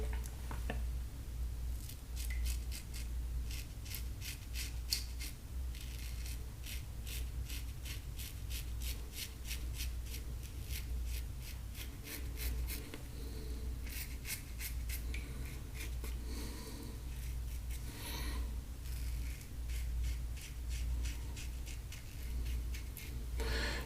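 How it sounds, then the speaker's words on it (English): A Fatip Grande double-edge safety razor scrapes through stubble in soft, rapid strokes, close-up and quiet, with short bursts of rasping separated by brief pauses. "this razor is really taking it off"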